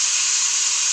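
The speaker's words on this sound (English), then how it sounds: "So I'm taking off the steam from the cooker" Steam hisses steadily out of a pressure cooker while chicken biryani is being made, a loud, continuous bright rush that holds level and unbroken without pause.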